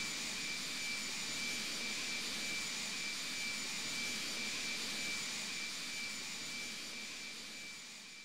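Steady roar of B-52D bomber jet engines in the flight game Strike Fighters 2, a constant broad whine with a high tone, fading slightly at the end, no voices.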